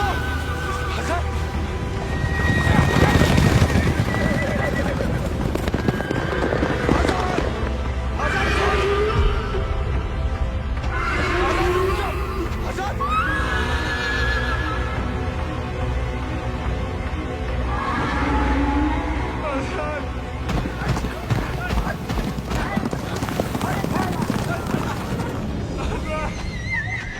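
A horse neighs and whinnies over clip-clopping hooves in a busy, dramatic scene, with voices and other noise mixed in throughout.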